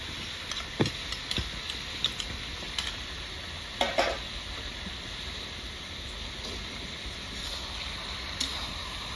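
Tomato and ginger-garlic-green chili paste fry in a pan for fried rice and chicken, a continuous close sizzle with scattered scraping stirs and clinks of a spatula, no voices.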